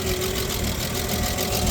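A 1959 Chevrolet Apache's 235 six with solid lifters idling while still warming up, a steady close mechanical chatter over a low throb, brief and unbroken.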